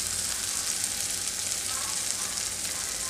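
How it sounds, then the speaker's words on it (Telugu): Eggplant pieces fry in a pan over a medium flame with a steady, even sizzle that holds at moderate loudness throughout, with no voices. "అందుకే మీడియం ఫ్లేమ్లోనే ఉంచి వేయిస్తున్నాను."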